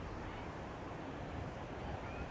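Rough surf and gusting wind on a beach in Casablanca, Morocco, a steady broadband roar of breaking waves and wind buffeting the microphone, continuous and loud with no voices.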